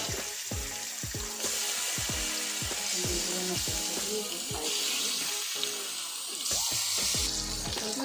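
Fish sizzles in hot oil in a kadai, a steady loud frying hiss overlaid with repeated clattering, scraping strikes of a utensil against the pan, all close up with no talk.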